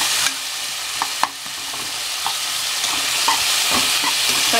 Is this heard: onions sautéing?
yes